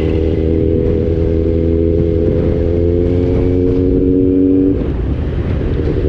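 A Kawasaki Z900 motorcycle engine roars steadily at high revs in second gear, its pitch climbing before dropping off near the end; loud and close, with no talking.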